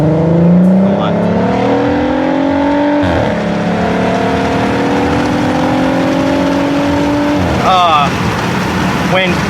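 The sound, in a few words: VW Passat straight-pipe exhaust revving, park and reverse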